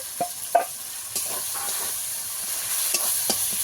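Cumin paste goes into a spice masala frying in oil, bringing a loud, close hiss of frying with several quick stirring scrapes and clatters scattered through it.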